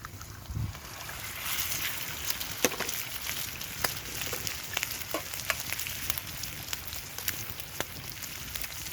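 A couple of eggs fry on a Bitty Big Q grill over an outdoor campfire, giving a steady close crackling sizzle with scattered sharp pops and ticks throughout.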